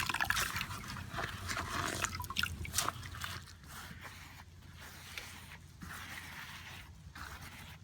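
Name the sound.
wet sponge wiping mosaic grout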